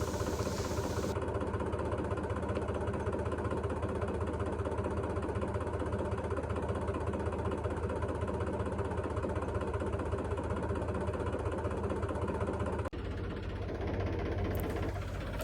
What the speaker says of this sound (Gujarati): મારી દે અહીંથી રિવર્સ ટ્રેક્ટરને